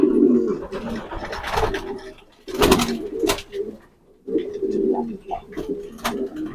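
Racing pigeons coo up close in repeated low, throaty rolling calls, loud and rhythmic, with brief pauses between phrases and soft rustling around them.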